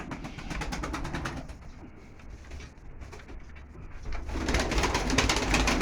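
A pigeon coos repeatedly nearby over a rhythmic mechanical rattling background, the cooing swelling louder toward the end.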